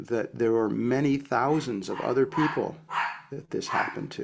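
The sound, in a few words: dog barking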